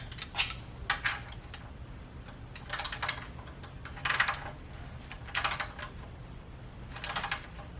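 Faint, sharp clicks come in small bursts at steady intervals as a torque wrench clicks over at set torque on a 17mm fitting during a Subaru WRX STI oil change, with a low background hum and no speech.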